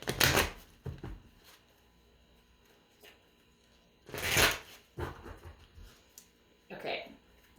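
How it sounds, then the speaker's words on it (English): Two bursts of crisp riffling cards, one at the start and another midway, with softer handling taps and rustles between them. "One more shuffle."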